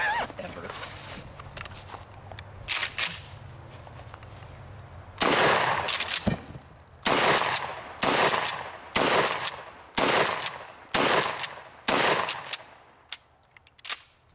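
Loud shotgun blasts ring out about eight times in a steady run, fired at a parcel box on a ranch in a video game, each shot sharp and close, following a quieter stretch of game ambience with light movement.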